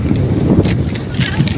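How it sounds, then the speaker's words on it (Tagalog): Wind buffets an outdoor microphone with a steady, loud low rumble that runs through the whole moment, along with faint gusty hiss. "Mas mahangin pa dito kaysa sa akin."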